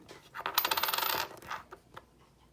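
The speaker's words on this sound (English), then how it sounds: "I just plucked 5 coins out of this roll" Nickel coins spilling out of a paper coin roll, heard as a close, bright burst of clinking metal followed by a few scattered single clinks as the coins settle.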